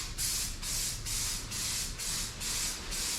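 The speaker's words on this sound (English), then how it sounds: "Let's see how it sprays out." Spray can coating a pickup truck frame in short, regular bursts, about six steady hissing sprays separated by brief pauses, close and clear with no talking.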